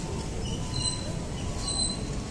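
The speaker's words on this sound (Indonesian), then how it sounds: "Jadi untuk kereta-kereta ini buatan Indonesia. Ini kereta Sawung Gali." Steady rumble and rolling hum of the Sawung Gali passenger train at an Indonesian railway station, with faint high metallic squeal tones drifting over the low drone, fairly close and continuous.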